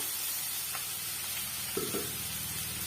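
Grated carrot sautéing in a pan for ragi dosa: a soft, steady sizzle with a couple of light stirring scrapes, quiet and close, with no talking.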